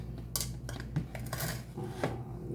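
Dirty rice is stirred in a single pot with a utensil, giving close, irregular scraping and clinking of metal against the pot over a couple of seconds with no talk.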